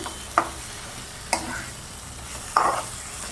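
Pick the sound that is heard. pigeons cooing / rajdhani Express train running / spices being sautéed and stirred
spices being sautéed and stirred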